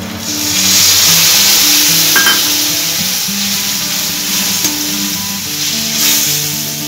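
Reserved onion-squeezed water hits a pan of frying mustard masala for fish roe curry, setting off a loud, close, continuous sizzle and hiss that swells early then settles while the pan bubbles steadily.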